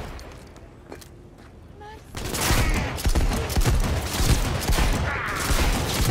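Shotgun fire in the video game Cyberpunk 2077: after a quieter stretch, loud, rapid, overlapping blasts erupt and keep pounding in a dense, chaotic volley through the rest of the moment.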